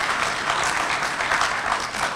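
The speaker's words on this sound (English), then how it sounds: "You have not even heard the reason that you are clapping." Audience applause at a local government workshop for new district chief executives, a dense steady wash of clapping from a large crowd lasting the whole moment with no voice over it.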